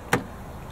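A single brief mechanical clunk of the door locks releasing on a 2023 Nissan Versa SR sedan, sharp and close, followed by quiet.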